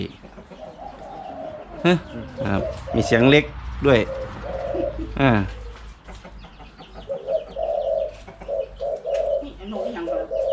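Spotted dove cooing rings out repeatedly amid chatter, with a person talking throughout; the calls come in short bursts, moderately close.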